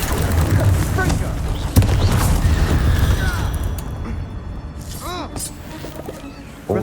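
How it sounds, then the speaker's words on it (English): A Confringo fire spell goes off in Hogwarts Legacy with a sudden booming burst partway through, set amid a continuous wash of voices and game ambience. "Confringo!"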